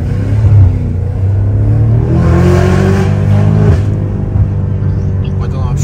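A BMW M5's engine drones loud and steady as the car accelerates, a continuous rumbling roar with rising harmonics that swells mid-clip, while men chat over it inside the cabin.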